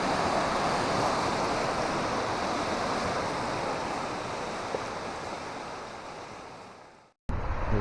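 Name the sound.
river waves and rapids rushing, Cline River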